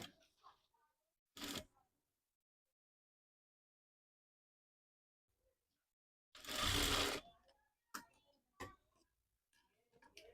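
Sewing machine stitching a gathered lace puff sleeve with piping, heard in two loud, separate bursts of running stitches, the second one longer, with quiet handling noises and small clicks between them.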